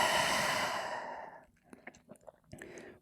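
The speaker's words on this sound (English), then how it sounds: "exhale through the mouth with your tongue out" A single long, breathy exhale through the open mouth with the tongue out during a yoga flow, strong at first and fading over about a second and a half, then quiet small mouth and breath noises.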